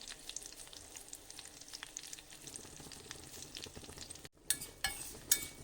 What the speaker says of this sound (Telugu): తర్వాత కరివేపాకు వేసుకోవాలండి ఇవన్నీ దోరగా ఫ్రై చేసుకోవాలండి